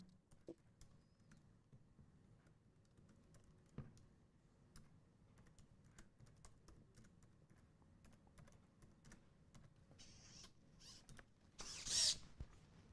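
Quiet, sparse key taps on a keyboard typed hunt-and-peck style, irregular single clicks spaced apart, with a brief louder burst of noise near the end.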